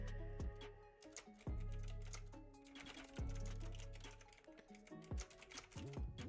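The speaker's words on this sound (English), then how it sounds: "I've been physically typing back too." Rapid, uneven clatter of keys on a computer keyboard, close and fairly quiet, with bursts of clicks and short pauses and no voices.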